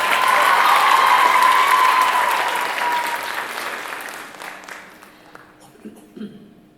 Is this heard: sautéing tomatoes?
no